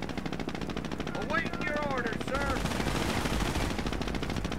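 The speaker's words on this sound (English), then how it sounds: "Yeah, good luck with that machine gun." Rapid bursts of machine gun fire crackle from the World War II strategy game Company of Heroes, sustained and loud with overlapping shots and battle noise throughout.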